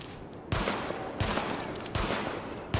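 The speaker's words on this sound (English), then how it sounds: "Open fire at the highlighted targets." Sidearm fire at highlighted targets on a test range in Tom Clancy's The Division, in three loud close bursts of rapid shots separated by short pauses, with no voices.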